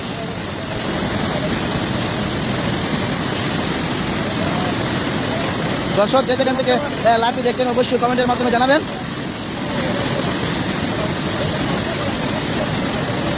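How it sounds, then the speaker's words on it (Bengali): Heavy rain pouring down in Jalalabad, Habiganj, during flooding: a loud, constant hissing roar runs the whole time while someone speaks over it. "প্রচণ্ড বৃষ্টি এই মুহূর্তে প্রচণ্ড বৃষ্টি হচ্ছে"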